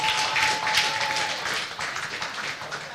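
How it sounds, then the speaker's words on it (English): Audience at a business conference claps steadily and fairly loudly for a participant, a dense wash of many hands with no talk over it. "Let's clap for him now. Let's encourage him."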